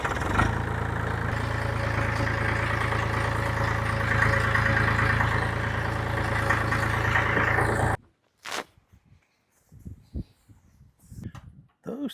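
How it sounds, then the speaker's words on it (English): A tractor engine runs with a steady, close rumbling drone for about eight seconds, then cuts off abruptly, leaving a few scattered quiet knocks and shuffling sounds. "We have the tractor out this morning to do a little work"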